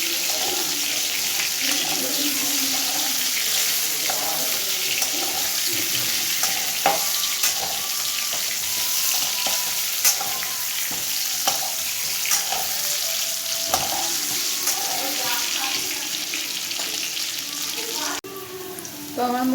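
Potato pieces frying in oil for a chicken curry make a continuous close-up sizzle with occasional clinks and stirring scrapes, unbroken throughout and with no voices.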